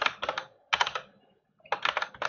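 Computer keyboard typing in short rapid bursts, three clusters of quick clicks separated by brief pauses, close and clear with no talk.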